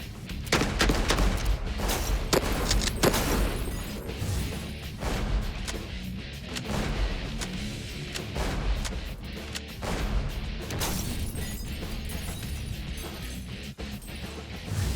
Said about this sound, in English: You just hold the trigger, work the pump, rounds go down range.